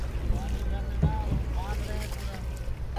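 A boat is paddled on the river at Kamhariya Ghat, with steady water and wind rumble throughout and people's voices in the background.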